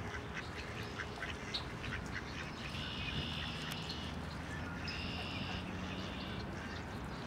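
Mallard ducks on the Ottawa River parkway quacking in repeated nasal calls over a steady outdoor wash of background noise, with a few calls standing out nearer.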